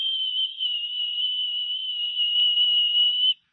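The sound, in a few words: gentle quiet whistle sound effect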